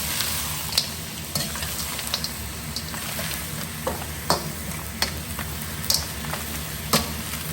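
Prawns and bite-sized pieces of hake stir-fry with colourful vegetables in a hot pan, giving a steady close sizzle broken by irregular sharp clicks and scrapes as the mix is stirred and tossed.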